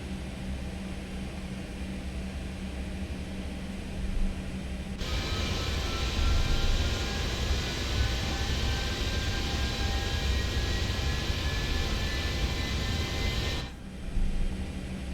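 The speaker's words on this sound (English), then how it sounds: "So, engine 3 start." The number 3 engine of an MD-11F freighter spools up in a flight simulator, a steady broadband roar with a rising whine that cuts in abruptly and holds for several seconds, loud and continuous, then drops away.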